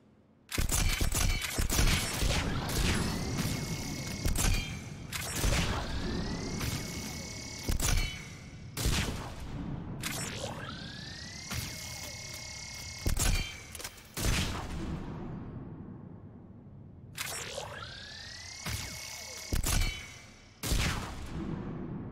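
A chakram launcher weapon firing in the Mass Effect 3 video game, loud repeated sharp shots, each followed by rising whirring tones, arriving in quick clusters over about twenty seconds.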